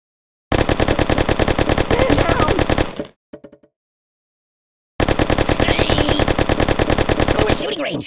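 Machine gun fire at a shooting range in the Kick the Buddy game: long rapid bursts of shots, loud and close, with a short gap holding a few faint clicks before the firing resumes.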